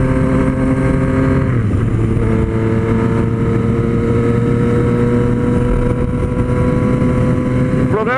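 A Yamaha MT-09 motorcycle engine drones loudly and steadily while riding, its pitch dropping and recovering through gear shifts, with a rise at the very end and no talking over it.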